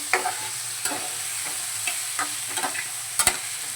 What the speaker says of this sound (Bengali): গ্রেট করা আদাটাও দিয়ে দিলাম কাঁচা লঙ্কা দিয়ে দিলাম সবই একসাথে দিতে দিতে মশলাটা করতে থাকবো